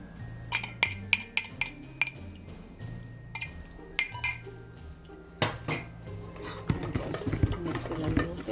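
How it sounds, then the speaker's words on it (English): Homemade aebleskiver batter being made as a bubbly cream and yeast mixture is stirred into sugar, cream and butter: a utensil clinks and scrapes against a bowl in irregular taps, then churns steadily, with a voice talking over it. "cream and yeast mixture is bubbly, so it's ready to be mixed into the sugar, the cream and the butter"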